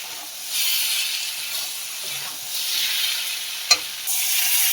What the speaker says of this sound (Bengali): লঙ্কার হলুদটা ভালো করে আবার ভেজে নেব।